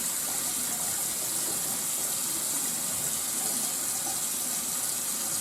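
Steady rush of tap water running over a baby washcloth at a sink, continuous and fairly loud throughout with no talking.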